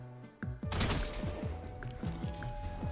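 Rapid bursts of submachine-gun fire in a video game, loud and close, repeated in quick rattling volleys over about three seconds.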